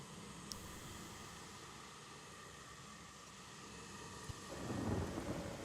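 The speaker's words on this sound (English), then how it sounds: "Because it's raining" Low rumbling thunder rolls beneath a steady hiss of falling rain, swelling louder near the end.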